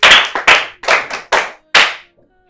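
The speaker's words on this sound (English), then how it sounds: "Clap for her, please." Small classroom group clapping for a student, five short separate bursts of hand claps close by, with a quiet moment after.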